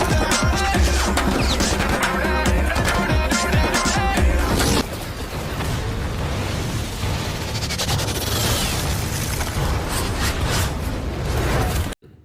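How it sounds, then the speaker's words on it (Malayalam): A gunfire shootout from the Malayalam action film Aadu, packed with loud booms, bursts and crashing impacts in a dense, continuous movie soundtrack mix that cuts off sharply at the end. "ആട് 1-ലെ ഒരു പ്രധാന രംഗമായിരുന്നു ഡ്യൂഡിന്റെ വെടിവെപ്പ്"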